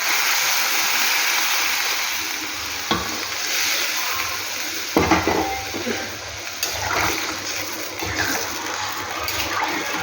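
Hot water is poured into a frying pan of fried food, setting off a rushing, bubbling sizzle with sharp bursts and splashes that stays close and loud throughout.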